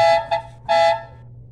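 A Fiat Fiorino van's horn, triggered by touching a pulled wire, honks in three short bursts, the last one longest, loud and close with a brief pause between blasts.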